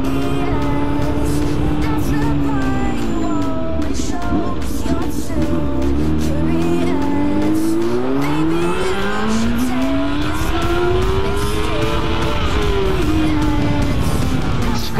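Honda Hornet motorcycle ridden fast on a road, played back from a recording: a loud, continuous engine howl whose pitch sweeps up and down repeatedly with revving and gear changes, close and dominant, with faint voices underneath.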